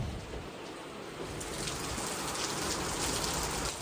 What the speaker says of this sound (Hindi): अभी मैं देख रहा हूँ भाई साहब बारिश होनी स्टार्ट हो गई है